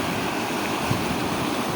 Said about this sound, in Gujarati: પાણીનો ધોધ બહુ જોરદાર વહી રહ્યો છે